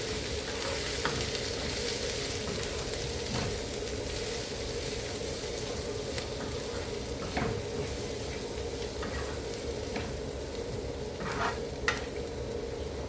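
Masala stirred into onions frying in a pan for a spicy mushroom curry, with a constant close sizzle and occasional scraping clicks of the spoon against the pan, no voices.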